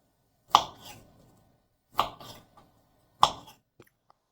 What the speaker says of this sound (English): I will cut each slice in half